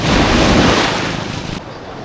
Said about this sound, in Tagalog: Medyo malakas din yung alon.